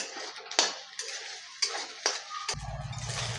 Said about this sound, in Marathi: अंडा मस्त असा फ्राय झालेला आहे